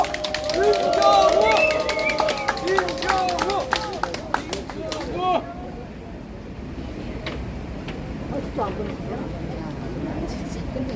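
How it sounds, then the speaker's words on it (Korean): Scattered applause at a gathering protesting the KBS licence fee, welcoming former lawmaker Min Kyung-wook, with crisp claps mixed under loud voices that thin out into sparser clapping and background murmur. "큰 박수로 맞이해 주십시오"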